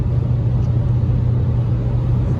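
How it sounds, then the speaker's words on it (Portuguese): A 2022 Fiat Cronos 1.3 Drive's engine drones inside the cabin while driving: a steady, low, throaty hum that holds constant, loud and close, with no talking. "Olha o ronquinho do motor aqui invadindo a cabine, ó."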